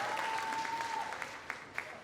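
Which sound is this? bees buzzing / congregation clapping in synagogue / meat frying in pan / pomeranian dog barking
congregation clapping in synagogue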